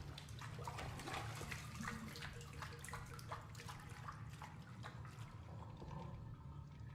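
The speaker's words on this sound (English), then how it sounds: "Something shiny at the bottom of the tub. Should I drain the water?" Water drains from a bathtub in a mansion video game, a steady faint gurgling rush with bubbling splashes running evenly throughout.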